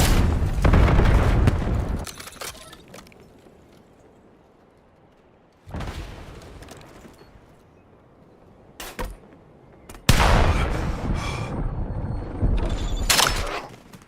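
Gunfire and explosive booms in a first-person shooter game, loud bursts of shots in clusters separated by quieter stretches, with no speech.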